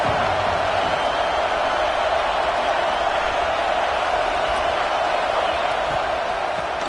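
A football stadium crowd at a Clemson versus Nebraska game roars in a constant, broad wall of cheering that stays loud and even for about seven seconds.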